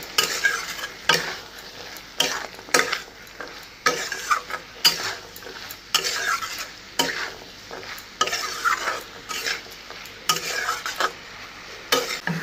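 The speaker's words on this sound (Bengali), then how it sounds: "ভালো করে কষানো হয়ে গিয়েছে, এখন দিয়ে দিই মটর।" Green peas stirred into a spiced masala frying in a pan, with repeated scraping strokes of a spoon against the pan over a steady close sizzle, no talking.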